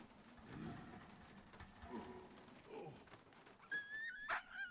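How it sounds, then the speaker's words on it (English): A puppy in the World War I video game Valiant Hearts whimpers and gives a few soft yips and barks, followed by a high whistling whine near the end, all fairly quiet and mixed with game sounds. "Oh, there's the puppy."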